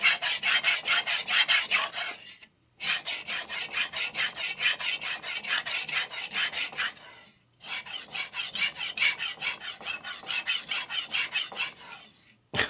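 A blade with a raised burr scrapes rhythmically across a resin bonded DMD diamond plate, rapid back-and-forth rasping strokes in three sustained runs broken by short pauses, near and prominent.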